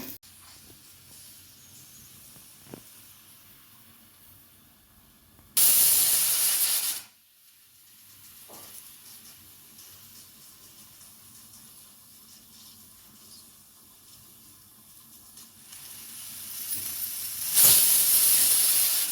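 Pressure cooker on a gas stove cooking sweet pongal, venting loud steam whistles in two bursts separated by quieter hissing, with the final blast rising at the end.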